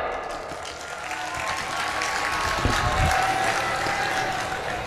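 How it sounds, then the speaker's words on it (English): Applause from a declamation contest audience swells steadily for a few seconds, a dense wash of clapping from a large hall crowd with no talk over it. "Dear audience, please cheer them up."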